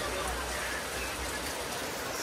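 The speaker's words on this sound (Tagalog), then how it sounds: "Malakas po ang ulan." Heavy rain pours down in a constant, dense hiss with a low rumble underneath, unbroken and loud for the whole stretch, with no voices.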